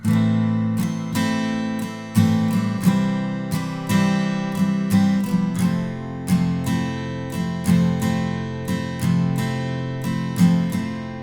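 An acoustic guitar plays the verse of a song with a basic strumming pattern, even ringing chord strokes in a steady rhythm, close and clear with no voice.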